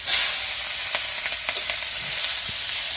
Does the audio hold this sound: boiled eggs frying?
yes